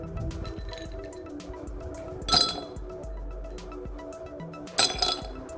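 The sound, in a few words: ice cubes clinking into a serving glass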